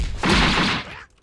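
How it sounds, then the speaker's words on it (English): A minigun fires in a video game as one short, dense, loud burst of rapid gunfire lasting under a second, then cuts off abruptly. "Minigun."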